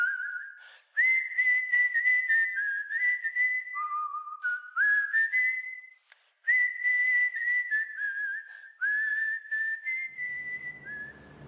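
A person whistles a clear, sustained melody, sliding between notes in long phrases with short pauses, close and alone.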